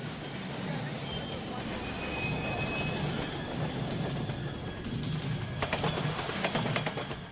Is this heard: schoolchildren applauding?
no